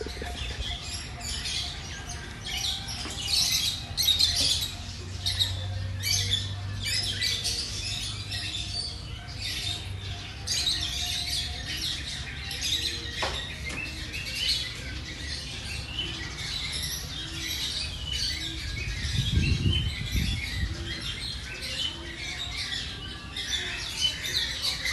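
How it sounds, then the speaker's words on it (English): Birds squawk and chirp outdoors in a seaside park in Phuket, Thailand. Repeated harsh calls and tweets come at varying distances over a steady outdoor ambience, with no talking. "What bird is that?"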